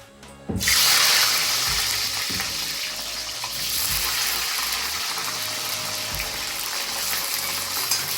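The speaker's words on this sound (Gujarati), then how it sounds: "આપણે મરચાં તળી લઈશું." Green chillies dropped into hot oil for Gujarati tuver totha, a loud sizzling burst at the start settling into a continuous close frying hiss that runs throughout.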